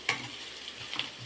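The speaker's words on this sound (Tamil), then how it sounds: "நல்லா வதக்கிக்குவோம். நல்லா வதங்கணும்." Vegetables for a biryani pachadi stirred in a hot pan, a soft scrape of the spoon and low sizzle, with a brief clink near the start and another near the end, no talking.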